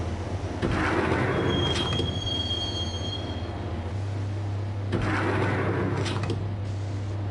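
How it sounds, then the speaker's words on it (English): Subway train ride in the video game Max Payne: steady rumbling rail noise with repeated high wheel squeals rising and fading, a continuous low hum throughout, no voices. "the train doors had already shut behind me, and I was in for the ride"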